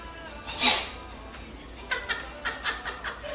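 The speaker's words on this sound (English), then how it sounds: "Oh, I gotta sneeze." One abrupt sneeze up close, followed by several soft, breathy bursts spaced over the next couple of seconds.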